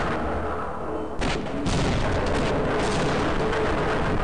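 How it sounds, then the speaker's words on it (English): Machine gun grenades from the Opposing Force video game going off, a loud booming blast after a second followed by sustained rumbling explosion noise. "I just fired two grenades down this hole right here"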